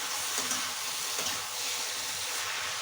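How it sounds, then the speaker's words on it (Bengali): A hilsa fish head and chopped cabbage sizzle and fry steadily in a pan as they are stirred, a continuous soft crackle with faint scraping and no voices. "মাছ আবার একটু নেড়ে নেব।"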